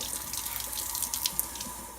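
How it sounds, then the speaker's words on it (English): A kitchen faucet runs steadily into a sink as comfrey stalks are rinsed under it, a close, constant hiss of splashing water with no voices. "I really try to rinse right here in this little channel real good"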